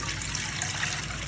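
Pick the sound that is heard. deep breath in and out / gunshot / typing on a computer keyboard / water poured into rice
water poured into rice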